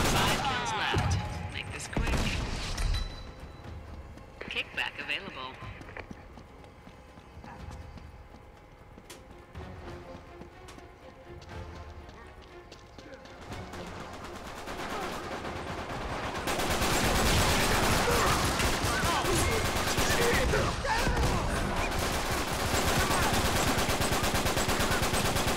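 Gunfire in an Uncharted 3 multiplayer match: scattered gunshots and bursts early on, then a dense, loud stretch of rapid shooting and action noise in the second half, with voices talking over it.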